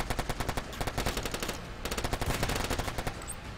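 Rapid machine gun fire in the online shooter Warfare Online, sustained bursts of rattling shots at a steady fast rhythm with a brief break midway, loud and close, no talk over it.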